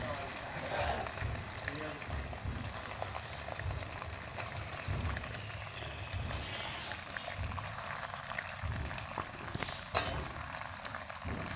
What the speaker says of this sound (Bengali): এই পনিরগুলো সাদা তেল আর বাটারেই ভাজা হবে